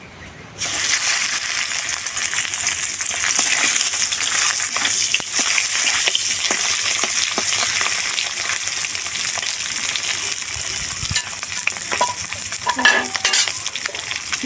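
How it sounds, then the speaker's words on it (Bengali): Tangra fish frying in hot oil with five-spice tempering, a steady loud sizzle and crackle running continuously after a quiet start, with occasional stirring clinks near the end. "ট্যাংরা মাছগুলো আমি ভেজে নেবো"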